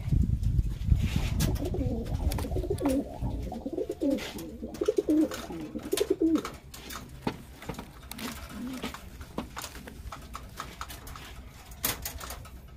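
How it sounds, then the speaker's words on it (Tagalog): Pigeons cooing in soft, repeated throaty phrases, fairly close, alongside light patter and rustling from the flock; no talking. "Ito mga kalapatids."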